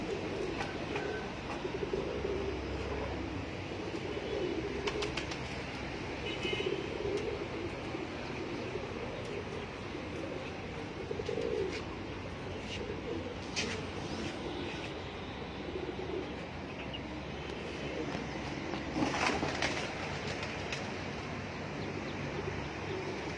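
Continuous outdoor bird ambience on a rooftop with pigeons cooing softly at a moderate distance, a steady murmur with no talking.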